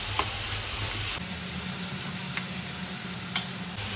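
Onions sizzle steadily in a pan with chopped chilli, ginger and garlic, and a few scraping stirs punctuate a continuous frying hiss close by.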